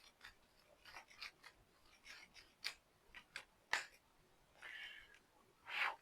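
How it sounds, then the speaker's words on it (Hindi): Tarot cards shuffled by hand, giving a soft series of quick papery clicks and riffles, faint and close, with no talking. "दो कार्ड आए हैं, मुझे फिर से शफल करना पड़ेगा।"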